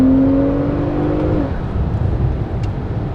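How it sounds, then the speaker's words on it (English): A Porsche 911 Turbo pulls hard in second gear from inside the cabin, a deep engine drone with a rising whine that fades into a low rumbling roar, close and loud with no talking. "let's slow down here and let's just do like a second gear pull"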